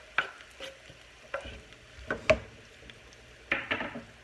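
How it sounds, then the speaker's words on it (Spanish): Tomato, onion and serrano chile frying in a pan, a quiet sizzle punctuated by several short utensil taps and scrapes as the mixture is stirred. "el jitomate, la cebolla y el chile serrano, para que se fría bien y que se mezclen bien los ingredientes"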